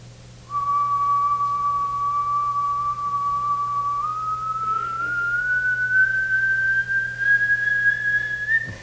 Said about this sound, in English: So I'll try to whistle